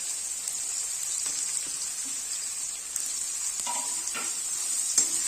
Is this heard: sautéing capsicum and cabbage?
yes